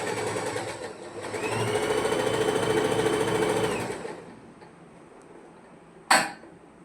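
A sewing machine runs steadily for about three seconds while stitching the shoulder seam of a churidar, then stops. A sharp click follows near the end.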